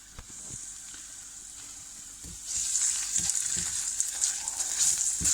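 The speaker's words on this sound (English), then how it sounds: "take my handy dandy spatula" Frying sizzle and spatula stirring in a pan of tomato sauce with a small dab of tomato puree, steady hiss that grows louder partway through, with several soft scraping knocks.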